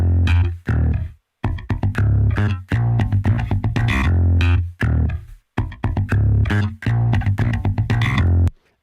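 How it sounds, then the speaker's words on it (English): Trillion bass synthesizer plugin played on a keyboard: a loud, groovy, distorted bass line in repeating phrases with brief gaps between them, heavy in the low end, with no talking over it. "this bass software called Trillion"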